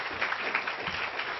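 A brief burst of audience clapping at a formal address, even and fairly soft, lasting only a moment.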